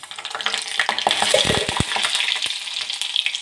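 Tempering spices crackle and sizzle in hot oil in a pan for a tempering for a tomato chutney, a steady, close frying hiss with a few sharp pops and light utensil clinks.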